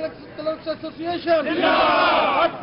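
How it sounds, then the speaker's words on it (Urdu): Protesters at Kachehri Chowk chant slogans against the government over rising prices. A loud, close crowd of voices rises and falls in rhythmic shouted chants. "مظاہرین حکومت کے خلاف نعرے بازی کرتے رہے۔"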